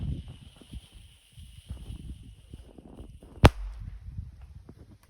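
A Black Devil firecracker explodes outdoors with a single sharp, loud crack near the end, preceded by quiet rustling and footsteps on the ground.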